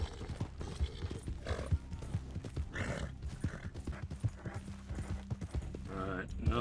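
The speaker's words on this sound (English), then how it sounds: "I didn't even call my horse and she showed up." Horse hooves clip-clopping in the Red Dead Online video game, a steady close patter of hoofbeats mixed with a whinny and a busy game soundscape, with talking over it.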